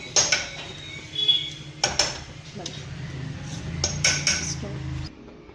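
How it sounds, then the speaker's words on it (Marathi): A small spoon scrapes and clinks against a metal cooking pot of simmering patwadi rassa gravy, with several sharp metallic taps and a sustained scrape, fairly close; a faint low simmer sits underneath and there is no talk. "छोट्या चम्मचने काढून घेते हे"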